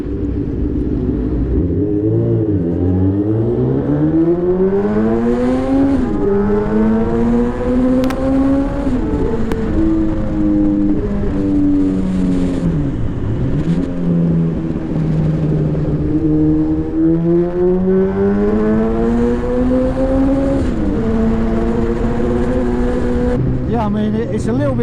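Honda CBX 1000 and a custom Fireblade motorcycle riding along under throttle, engines droning loudly and rising and falling in pitch through the gears, heard close up with wind noise and occasional voices.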